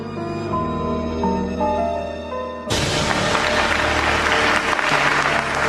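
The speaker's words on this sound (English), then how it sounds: "the crowd applauded her" Applause from a large crowd breaks out abruptly after a soft musical passage and continues as dense, steady clapping to the end, loud and close, with no voices over it.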